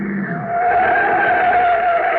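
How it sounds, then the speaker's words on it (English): A car skids onto a launch field as a radio drama sound effect, producing a loud, sustained tire screech that swells after a brief engine start and holds steady for about two seconds, with no speech. "Hey, what's that car doing? He's coming right out on the field."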